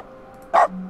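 One short synthetic dog bark from a console in The Stanley Parable video game, sharp and close, followed by a faint low hum.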